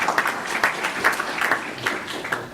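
Applause from an audience at a Westerville school board meeting, honoring a graduate and other honorees. Scattered clapping continues steadily at moderate loudness for the whole moment, with slightly louder bursts of a few claps here and there.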